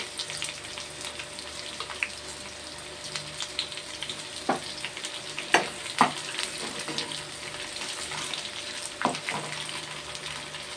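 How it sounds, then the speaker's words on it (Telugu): Garlic and dried red chillies fry in hot oil with a continuous crackling sizzle, broken by sharp pops and spatters, and occasional soft stirring scrapes, close and steady throughout. "నూనెలో ఎల్లుల్లిపాయలు వేసేయండి. ఎల్లుల్లిపాయలు వేసాకండి ఎండుమిరగాయలు వేస్తున్నాను"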